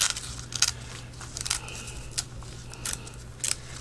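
Folded paper being torn by hand for a boho-style collage, a series of close, crisp ripping and crackling bursts in short irregular strokes over a low steady background hum.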